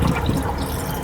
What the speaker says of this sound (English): We open up our drain valve and we pour some antifreeze